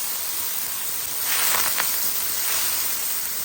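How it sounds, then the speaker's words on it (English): Onion and garlic frying in a pan for pad thai give off a steady close hiss that swells briefly in the middle, with no talking. "you fry the onion and garlic turn golden brown"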